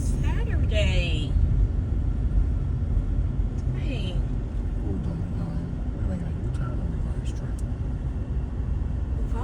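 Saturday road traffic in Houston makes a continuous low rumble of engines and tyres heard from inside a vehicle, steady across the whole stretch, with people chatting over it.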